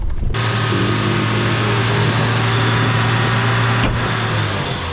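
Lada Niva engine holding a steady drone as the car rolls slowly downhill off-road in the Zakarpattia mountains, close, loud and continuous with a brief knock near the end.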